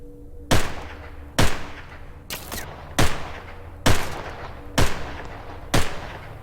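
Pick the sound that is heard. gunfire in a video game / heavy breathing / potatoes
gunfire in a video game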